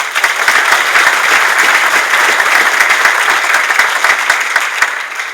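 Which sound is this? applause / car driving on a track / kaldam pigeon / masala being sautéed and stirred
applause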